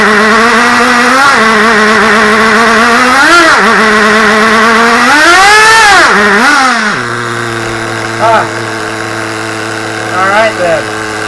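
A Smartech Nitro RC engine revs hard as it hits second gear, a loud buzzing whine that climbs and falls repeatedly, then drops to a steady idle with brief blips.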